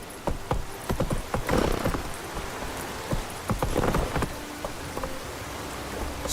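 In The Witcher 3, the horse Roach gallops with rapid, uneven hoof clip-clops close by, set against a steady rain-like hiss. No one is talking.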